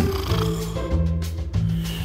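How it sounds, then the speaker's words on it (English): A sleeping professor snores in a cartoonish video game, a slow low nasal snore that swells and fades in steady repeated breaths, near and moderately loud. "Yeah, that's a snore, right?"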